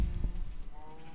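A sheep in the video game Minecraft gives a short bleat, wavering and fairly close, over a low thudding background.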